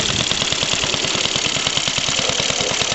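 A steam car engine running on compressed air idles close by, its low rapid chugging steady, even, constant and unbroken throughout.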